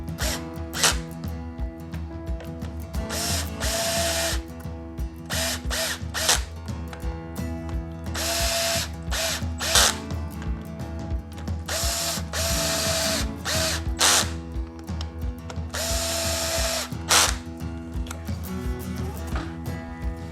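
A power drill snugs up the clutch bolts on a motorcycle, whirring in short repeated bursts with ratcheting clicks between runs, loud and close in a workshop.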